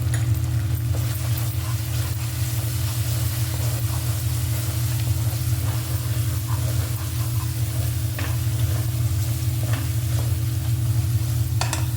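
Spice masala frying in a pan as the base for a hotel-style green chicken curry, giving a loud, even sizzle over a constant low hum, with faint stirring scrapes now and then and no talking.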